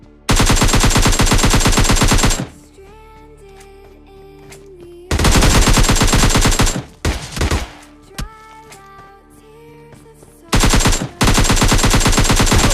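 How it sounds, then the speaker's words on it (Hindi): Automatic gunfire in a video game, bursts of rapid machine-gun fire: a long loud burst, a pause with quieter clicks and tones, another burst with a few separate shots, then a final short burst. "यहाँ आ जाती है बढ़िया से गोलियों की आवाज"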